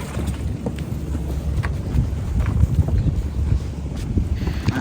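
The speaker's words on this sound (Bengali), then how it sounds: "সেখান থেকেই ট্রলারে উঠছি।" A fishing trawler's engine chugs steadily at sea, a low throbbing drone with wind noise over the microphone and faint knocks scattered throughout.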